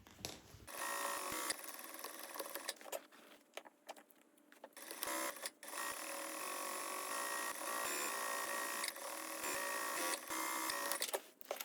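A home sewing machine runs a long straight seam on a Balmacaan-style coat, a steady close mechanical whir with brief pauses and restarts.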